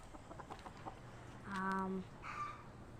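A chicken gives a short, clear clucking call midway, with a quieter cluck after, against faint outdoor background noise.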